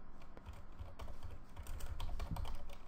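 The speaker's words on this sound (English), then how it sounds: "if my keyboard stops messing around" Someone types code on a computer keyboard, a steady close clatter of keystrokes that quickens toward the end, with no speech.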